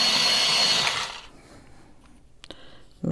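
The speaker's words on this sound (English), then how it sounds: "Maybe give that a sharpen real quick." A Holbein white colored pencil gets a quick sharpening, a close whirring grind for about a second that cuts off, followed by faint handling clicks and a soft bump at the end.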